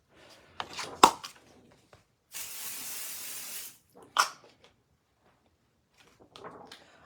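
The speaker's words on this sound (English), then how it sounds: "Let me pixie spray this." A single steady hiss from a pixie spray bottle lasting over a second, close by, between a few quiet clicks and knocks.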